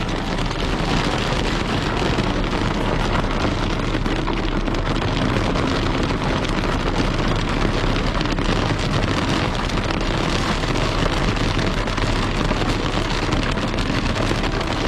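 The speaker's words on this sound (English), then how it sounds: "We're in the middle of a rainstorm, and it's hailing." Heavy rainstorm with hail pounding on a vehicle, a dense, steady drumming wash of rain and hail impacts that stays loud and constant throughout, with no voices.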